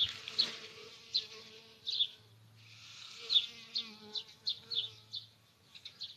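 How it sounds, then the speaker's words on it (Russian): Small bees buzzing close by in a village garden, their hum rising and fading in repeated swells with brief louder passes near the listener, and no voices. "Жизнь маленьких пчел."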